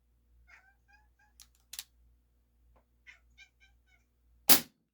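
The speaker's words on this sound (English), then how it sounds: "I hear my cat over there chattering." A cat indoors gives soft, rapid chattering chirps in short bursts, faint and fairly close, with a loud sharp snap near the end from an Umarex XCP CO2 air pistol.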